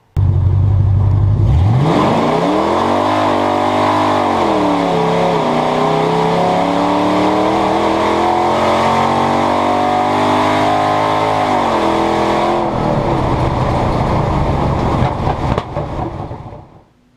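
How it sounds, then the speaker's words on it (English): Car fitted with a two-step and a new torque converter making a 0 to 4th gear pull, the engine roaring loudly and rising in pitch through several gear shifts before fading out, with no talking. "he asked for a 0 through 4th gear pull just to see how it's shifting"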